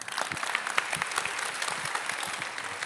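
Audience applause at a rural family school community event in Brazil's Baixo Sul, Bahia: steady, dense clapping from a crowd, fairly close and sustained without a break throughout.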